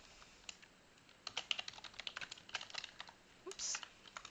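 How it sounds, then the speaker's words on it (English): Typing on a computer keyboard while formatting a book in InDesign, a quick uneven patter of key clicks, close but soft, in quiet room tone. "I am going to type in our actual book title"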